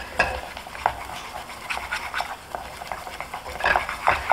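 Brown roux being stir-fried in a pan for brown gravy sauce, with soft scraping and stirring strokes at an irregular rhythm, close and moderately loud, no talking.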